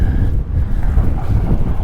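Strong wind buffets the microphone at a lakeshore while fishing, in a steady, rumbling roar with no pauses.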